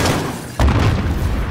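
A grenade launcher blast in the Call of Duty: Modern Warfare battlefield lands as a single heavy, close boom, with a low rumble that lingers beneath steady combat noise.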